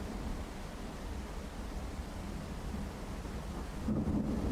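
Steady rain hisses over a low, continuous thunder rumble in the horror video game Bighead, swelling slightly louder near the end, with no voices.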